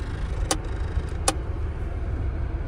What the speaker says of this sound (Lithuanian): Girdi, kai čirškia?